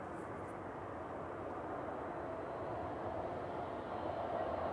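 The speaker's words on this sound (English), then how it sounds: "It is the Maersk 767 G Macy. It's flying above us" A Maersk Boeing 767 cargo jet passing overhead above the clouds near Manchester Airport, a steady, distant broadband roar that slowly builds in loudness, with no voices.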